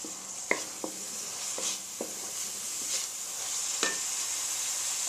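Lightly chopped garlic frying in a pan over raised heat, a steady sizzle throughout with a few sharp clinks of a spoon stirring against the pan.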